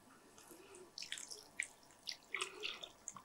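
Water is poured into soaked tamarind while making ridge gourd peel kuzhambu, heard as faint, close splashing and dripping that begins after a quiet second and continues in small bursts.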